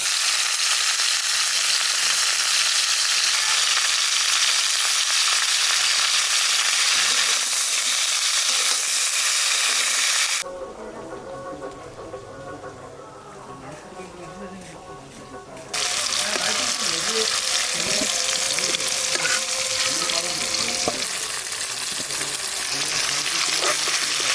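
Hilsa fish fries in hot oil with a loud, continuous sizzle, interrupted midway by a quieter stretch of stirring and kitchen clatter before the crackling sizzle returns.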